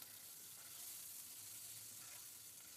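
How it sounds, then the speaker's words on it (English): Bacon frying in a pan gives a continuous, fairly quiet hiss and crackle, even and unbroken throughout with no voices. "I'm making bacon and Pop-Tarts"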